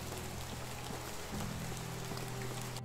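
Summer rain falls steadily in the medieval village-building game Medieval Dynasty, a continuous even patter of drops with a low constant hum beneath it and no voices.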